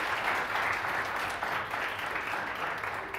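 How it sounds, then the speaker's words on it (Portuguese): A crowd at a theatre workshop on Hermeto Pascoal and sound gives sustained applause, a thick, continuous patter of many hands, close and steady, easing slightly toward the end. "palmas para eles"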